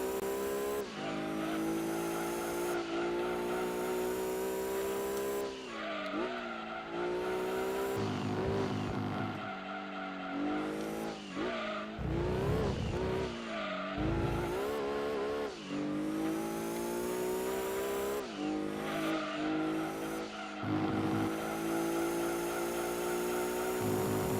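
Race car tyres skid and squeal in Gran Turismo 2 during an endurance race at Apricot Hill, layered over a continuous loud engine drone with brief dips as the car nearly loses grip.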